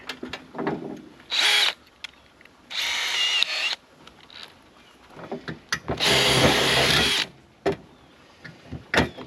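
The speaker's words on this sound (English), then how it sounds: "I do have a drill over here" A power drill whines through aluminium extrusion in several bursts, some brief and some longer and sustained, separated by pauses with light clicks and handling sounds.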